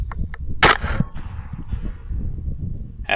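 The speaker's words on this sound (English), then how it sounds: "And the follow-up shot." One sharp, close gunshot from a Rix Tourer T20 rifle firing a Grendel Hammer bullet during a hog hunt, a loud crack followed by a short fading tail. Faint clicks come just before it, and outdoor rustling continues afterward.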